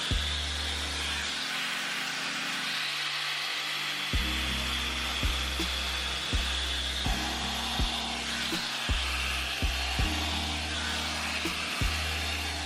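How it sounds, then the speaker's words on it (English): A hair dryer blows steadily throughout while hair is blow-dried with tension using a heat-protection styling product, a loud continuous close whoosh with faint rhythmic clicks or brush knocks recurring over it. "The directions also said to make sure you're applying tension when you blow dry it."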